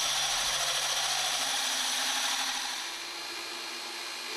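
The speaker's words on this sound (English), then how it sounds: "Drilling a hole in block." A steady, harsh grinding hiss of a diamond core bit cutting into concrete block, continuous and close, easing slightly toward the end.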